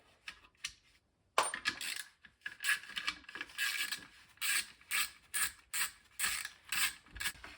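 Bolts are loosened from a Nederman fume extraction fan motor with a ratchet, making close, quick metallic clicking bursts in an even rhythm after a brief pause and a clank.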